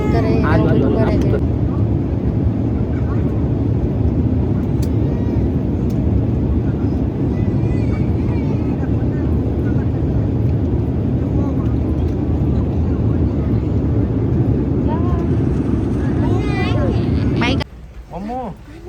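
A loud, steady roar fills an airplane cabin on a long flight to Paris. The drone stays constant while voices talk over it, then cuts down sharply near the end.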